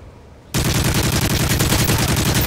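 A grenade blast erupts from near silence in a Modern Warfare 3 search-and-destroy match on the Dome map, followed by a dense, loud, continuous burst of rapid gunfire that rattles on without pause.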